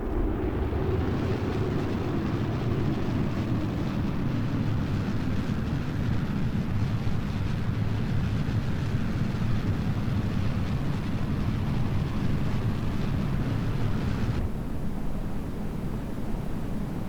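Rocket engine thrust in Kerbal Space Program during a descent burn, a steady loud roaring rumble that holds for most of the stretch, then cuts off abruptly near the end, with no talking.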